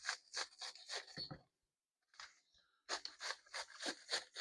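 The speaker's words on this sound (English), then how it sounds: "I'm going to thin slices of cabbage." A knife slices cabbage thinly on a cutting board for spring rolls, a close rapid series of crisp rasping strokes in two bursts separated by a short pause, without talk.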